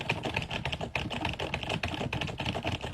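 Rapid typing on a computer keyboard, with dense, even key clicks that continue without pause, close up and moderately loud.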